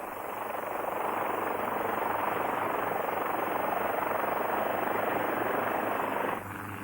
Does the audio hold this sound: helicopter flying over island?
yes